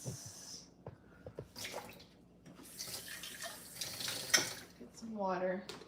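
Water runs from a tap in a home, a steady rushing stream that rises and falls, heard under ongoing talk and small clattering household sounds.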